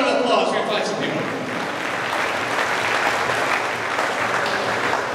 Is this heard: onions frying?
no